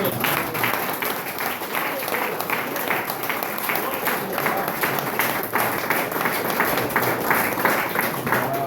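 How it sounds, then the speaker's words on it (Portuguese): A church congregation applauds steadily after a sermon, dense continuous clapping filling the room at even loudness throughout. "Pode aplaudir o Senhor Jesus."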